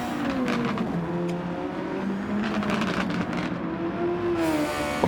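Super Formula 23 race cars in Gran Turismo 7, high-revving engine whine rising and falling through gear shifts as several cars race, loud and continuous with no voices.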